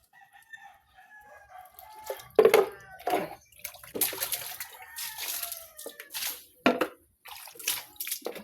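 Water splashes and sloshes in irregular bursts as a curtain is hand-washed, with a rooster crowing and chickens clucking nearby in the background.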